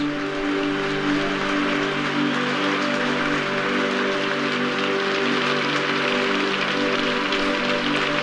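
A huge cricket crowd applauds as the Australian openers Woodfull and Ponsford walk down to the gate, a steady dense wash of clapping with a faint hum underneath, no voices.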